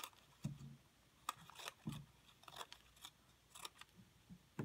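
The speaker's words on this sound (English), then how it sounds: "So I'm snipping, snipping, snipping" Scissors snip paper to cut fringe for a collage, a handful of sharp, close cuts spaced irregularly with quiet gaps between them.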